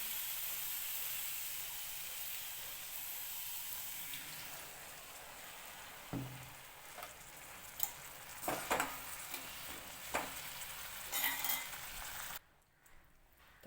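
Water goes into a pan of eggplant and masala frying in oil, bringing a steady hiss and sizzle with scattered bubbling pops and clinks that swell near the end, then drop away abruptly, with no talk.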